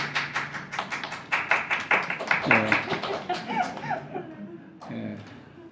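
A church congregation clapping during worship, a fast rhythmic patter of many hands mixed with voices and other sounds, fairly loud and sustained before dropping off near the end.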